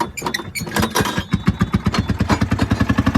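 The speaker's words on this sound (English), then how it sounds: "when the engine spins up, close the throttle, advance the timing." A Fairmont pop car, a small railway motor car, has its engine started by hand crank; it catches and runs with loud, rapid, steady popping exhaust beats close by.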